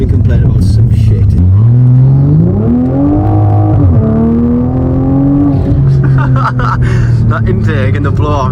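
Intake roar and blow-off valve of a 500bhp Toyota Supra, rising and falling through revs with a sharp release toward the end, loud and close while people talk over it.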